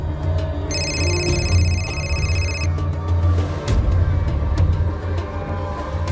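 A telephone rings with a bright repeated electronic trill for about two seconds, set against a low indoor background hum, then the ringing stops and the murmur continues.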